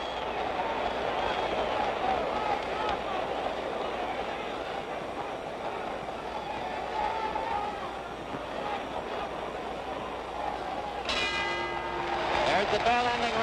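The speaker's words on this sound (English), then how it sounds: "The bell ending round 11." A boxing bell rings out near the end, several sharp metallic clangs cutting through steady crowd roar at a 1965 heavyweight fight between Floyd Patterson and George Chuvalo, with a commentator talking throughout.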